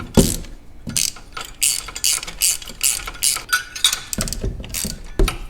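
Close, rapid clicking of a ratchet wrench loosening spark plugs on a Dodge Viper engine, in uneven bursts of ratcheting with brief pauses between strokes.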